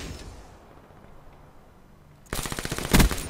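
A submachine gun without attachments fires a rapid, loud burst in Black Ops 3 after a quiet, low stretch. The burst rattles for about a second with a heavier crack near its end.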